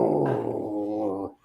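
A dog gives one close, low, sustained growl lasting about a second, then breaks off with a short grunt at the end.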